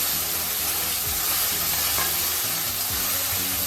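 A ground spice paste for raw mango kadhi sautés in a hot pan with a dense, continuous sizzle and hiss. Faint scrapes of stirring run underneath.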